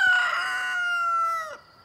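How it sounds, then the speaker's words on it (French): A broody black hen clucks in one long, drawn-out, nasal call close up, then it cuts off into near silence. "Alors la poule glousse, la noire là qui nous a fait faux bond."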